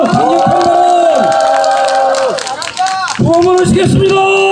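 A large outdoor crowd at a candlelight impeachment rally on a Cheongju shopping street cheers and shouts loudly and continuously. Raised voices swell, dip briefly near the middle, then surge again.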